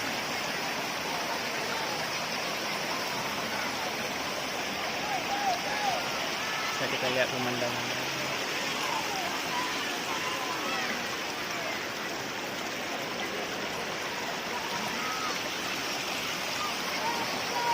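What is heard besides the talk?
Rayap waterfall, Nisam, North Aceh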